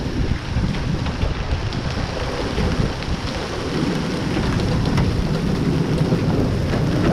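Heavy rain and hail pound down during a Winnipeg storm with damaging winds, a dense continuous roar of impacts and water, loud and steady throughout with no voices; thunder is not clearly distinguishable.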